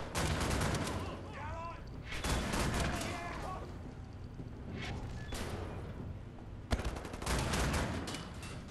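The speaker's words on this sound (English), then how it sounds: "They're shooting at me from somewhere though." Gunfire in the shooter video game Wolfenstein The New Order, with loud bursts of shots and booming blasts that come in repeated volleys, broken by brief pauses, over a busy game soundscape.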